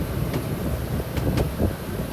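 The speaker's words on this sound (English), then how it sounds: "So there goes our compressor. It's kicked on." A York 3-ton heat pump compressor, with an iced-up coil and low charge, runs with a steady low broadband rumble and whoosh, fairly loud and continuous outdoors, with a couple of brief higher clicks.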